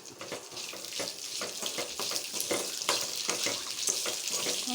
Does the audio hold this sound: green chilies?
yes